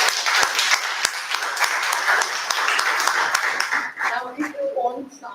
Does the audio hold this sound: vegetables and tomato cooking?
no